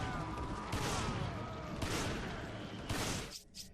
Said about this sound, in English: It's a triple-barrel shotgun, and it shoots like one, too.